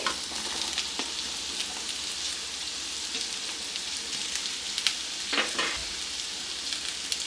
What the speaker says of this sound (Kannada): ಈಗ ಇದನ್ನು ಫ್ರೈ ಮಾಡ್ಕೊಳ್ಳೋಣ